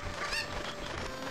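A chicken from Zelda: Ocarina of Time gives one short, faint cluck over a steady background hum.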